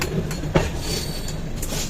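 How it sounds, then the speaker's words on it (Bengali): A train rumbles along the rails close by, with a rhythmic clatter of wheels and a sharp clank partway through, steady and fairly loud. "ফাইনালি আমাদের ট্রেন আবার ছাড়লো"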